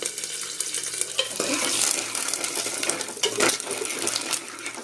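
Garlic and curry leaves sizzle and crackle in hot oil in a home kitchen pan while making pappu, a steady close frying hiss with scattered pops and spoon stirring.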